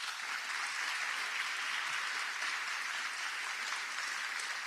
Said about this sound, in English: let's give these council people, women, men, and our city clerk a round of applause